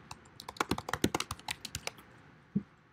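Quick bursts of keystrokes clatter on a computer keyboard, a rapid run of clicks followed by a pause and one final tap.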